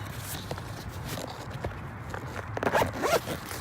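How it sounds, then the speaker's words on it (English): A painting kit bag is zipped shut in a few quick, close rasping pulls, with light handling knocks around them and no talk. "So I've done just zip this up."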